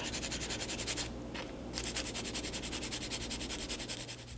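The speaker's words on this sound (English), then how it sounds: "When I'm filing it, I'm just applying more pressure to the end of the tip than the side to make it like angle more into a coffin shape." A fake nail tip is filed into a coffin shape with rapid, continuous back-and-forth rasping strokes, close and fairly quiet, with one brief pause partway through.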